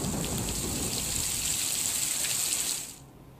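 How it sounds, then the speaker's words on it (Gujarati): Heavy wind-driven rain pouring down in Nadiad, Gujarat, a dense, loud, continuous hiss with no voices, fading out sharply in the last half second. "નડિયાદમાં પવન સાથે ધોધમાર વરસાદ વરસ્યો"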